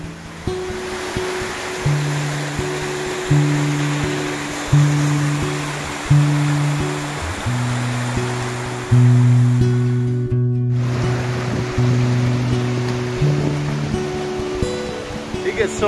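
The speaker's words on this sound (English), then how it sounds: "The power of water." Water rushes steadily through a narrow river gorge, a broad continuous roar with a low hum running beneath it.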